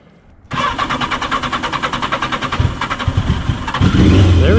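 A Yamaha XJ650 Turbo motorcycle, choke on, cold-starts after a brief quiet moment, then settles into a loud, rapid, even idle that swells slightly toward the end.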